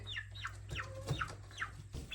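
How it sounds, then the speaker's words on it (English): Several clucks from a broody hen repeat at an uneven pace in a henhouse, close and moderately loud over a steady low hum, with no talk. "We've got another broody hen."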